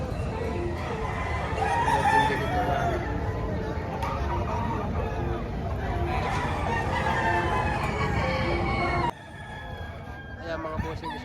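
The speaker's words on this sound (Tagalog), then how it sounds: "Ganda manok ha." A rooster crows at a poultry market in Padre Garcia, Batangas, its call rising over busy crowd chatter and people talking close by.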